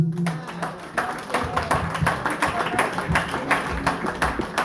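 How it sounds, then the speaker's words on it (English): Audience clapping at a primary school class graduation ceremony: steady, moderately distant applause from a crowd with sharp individual claps, continuing evenly throughout. "Another round of applause for our PTA president."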